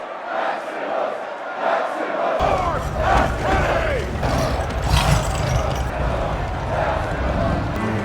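A gladiator film's arena crowd roars and cheers in a sustained, dense wall of voices, with rhythmic clashes and shouts mixed in; the sound swells suddenly after a quieter opening and stays loud throughout.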